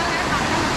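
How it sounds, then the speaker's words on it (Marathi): A water stream flowing at a terrace resort, giving a steady, unbroken rush of broadband noise that stays loud and even throughout the short stretch. "पाणीचा प्रवाह कसा वाढत जातो ना, वाढत आणि कमी राहतो"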